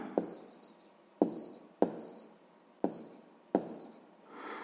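Pen strokes on paper while a maths exercise is written out, five crisp scratchy bursts each starting with a sharp tap and trailing off, close and alone with no voices.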